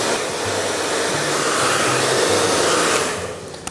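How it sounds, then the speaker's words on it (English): A hair dryer blows continuously and loudly while curly hair is being blow-dried straight, a steady roaring whoosh that tapers slightly at the end. "When you're blow drying, try and pull on the hair with quite a bit of tension."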